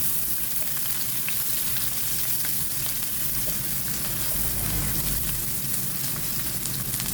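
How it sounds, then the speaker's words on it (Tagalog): Garlic and onion sauté in hot cooking oil in a kawali, giving a steady, close, dense sizzle and crackle that runs without pause throughout, with no voices. "Dito sa ating kawali, nagpainit na tayo ng mantika. Ilalagay natin ang ating bawang. Isunod naman natin ang ating sibuyas."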